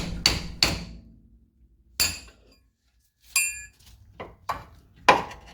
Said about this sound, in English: It's important when using this pickle fork not to actually use it as a lever, but just to hammer it in.